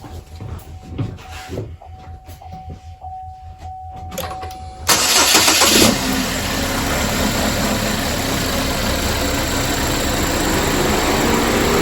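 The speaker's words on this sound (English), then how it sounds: "So we hear the fans running." A 2017 GMC Terrain engine starts after some faint clicks and a soft electronic tone, then runs steadily with its radiator fans adding a loud, constant rushing whir close to the microphone.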